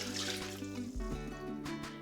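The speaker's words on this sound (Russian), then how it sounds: "Заливаем такое количество холодной воды, которое покроет мясо." Cold water runs and splashes steadily into a pot over meat, a continuous trickling pour lasting the whole moment, close by.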